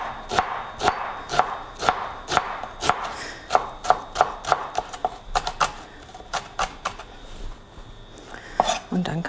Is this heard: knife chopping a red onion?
yes